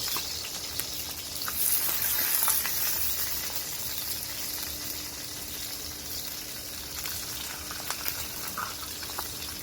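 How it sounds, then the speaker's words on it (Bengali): Continuous crackling sizzle of dried-fish dumplings frying in hot oil, steady and fairly quiet, with occasional sharper pops. "এখন এগুলো বেজে নিব"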